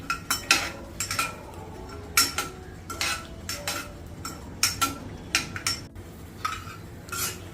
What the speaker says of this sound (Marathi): यामध्ये शेंगदाणे तळून घेते खमंग शेंगदाणे तळून घ्यायचं आहे